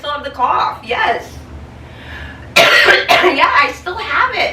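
Close, harsh coughing from someone still suffering a lingering cough erupts in a short cluster midway, framed by a person talking before and after.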